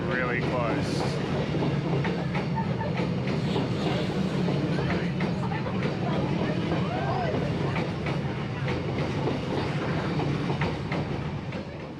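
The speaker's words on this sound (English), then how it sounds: "When the train's so close, you can feel the breeze" A train rumbles past very close, a loud continuous roar with rapid clattering of wheels on rails throughout.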